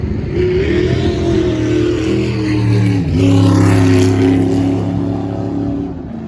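A race car engine revs loudly up close, its pitch climbing and dipping through a couple of throttle swells with a rough harmonic growl, then easing off toward the end.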